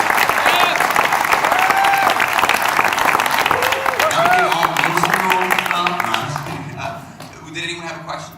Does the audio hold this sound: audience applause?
yes